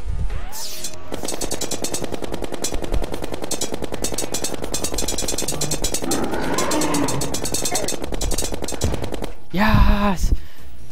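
Rapid ranged-weapon fire from the Terraria video game during the Skeletron boss fight, a dense continuous rattle of repeated shots lasting most of the clip, loud and steady, ending in a brief burst of louder game effects.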